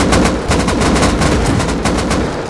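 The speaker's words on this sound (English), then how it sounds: "Throwing grenade." Loud, dense bursts of gunfire-like blasts rattle in quick succession from grenade explosions in the Rust survival game, close and continuous with no speech.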